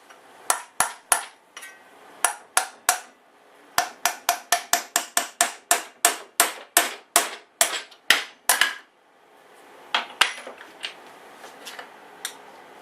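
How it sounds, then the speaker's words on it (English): Sharp metallic blows of a hammer on a punch, driving out a piston from a failed Tecumseh engine, ring out in rapid bursts of a dozen or more, pausing between series, loud and close with no speech. "we're going to get a hammer and punch, and we're going to get this piston out of here"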